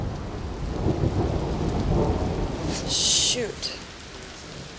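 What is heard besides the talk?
thunderstorm with thunder and rain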